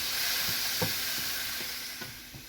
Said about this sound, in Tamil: நான் தக்காளி கொஞ்சம் நல்லா வதங்குற வரைக்கும்